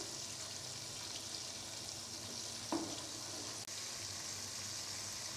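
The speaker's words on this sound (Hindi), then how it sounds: "इनको फ्राई होते हुए 5 मिनट हो चुके हैं।" Chicken pieces for crispy KFC-style fried chicken frying in oil in a covered pan, a steady soft sizzle throughout with one brief clink near the middle.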